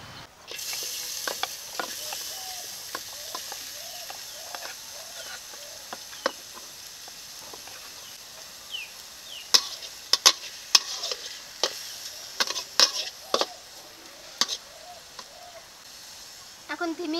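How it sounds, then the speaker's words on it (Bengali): Marinated small fish and mango hit hot oil in a pan, giving a continuous bright sizzle with frequent sharp crackles and pops, and stirring scrapes throughout. "এখন মাখানো মাছ ও আমটাকে কড়াইয়ের ভিতরে দিয়ে দেব।"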